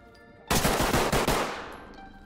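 A single sharp, loud burst of rapid automatic fire in the tactical shooter game Ready Or Not lasts about a second and rings out into a fading echoing tail, with no talking.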